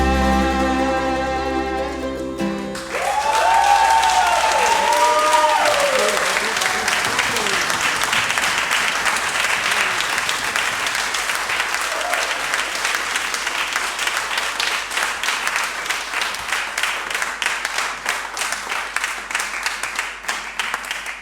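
An audience at a folk music concert in a sailors' hall applauds as an Irish song ends, the last notes giving way to long, thick, steady clapping that carries on alone.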